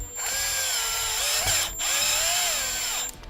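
A power drill drives a self-tapping screw into a metal Z bracket while headspace is added in a Winnebago Revel van. The motor whines loudly and close in two long bursts split by a brief stop.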